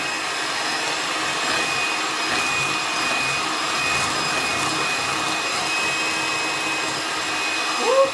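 A food processor whipping egg yolks with sugar for an almond cake, giving a steady, loud, even whir with a faint high whine that runs unbroken throughout.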